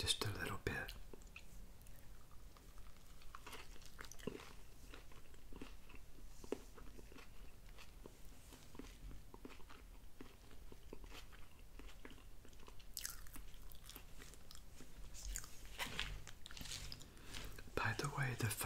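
Close, crunchy chewing and biting of a Firehouse Subs Hook & Ladder sub, wet mouth sounds repeating steadily with soft whispering interspersed.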